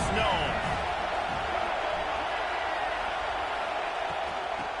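A football stadium crowd roars steadily throughout, a loud continuous wash of cheering and noise with no clear breaks.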